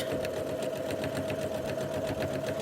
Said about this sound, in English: I'm going to keep my fabric straight using the quilting guide